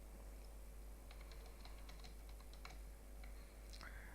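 Values being typed on a computer keyboard into an Excel 2013 spreadsheet, a scattered series of light, quiet key clicks over a steady low electrical hum, with no talking.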